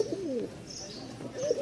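Lahori pigeons coo nearby in two soft, rolling bursts with a short pause between, close and clear against a faint background hiss.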